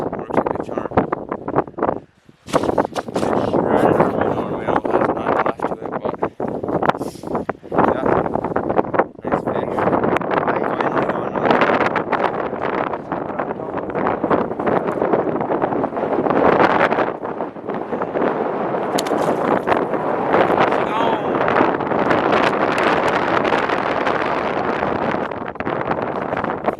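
Strong wind blows steadily across open lake ice during early-season ice fishing in Michigan, a loud continuous buffeting roar with microphone rumble that lasts throughout, dropping out only for a moment near the start.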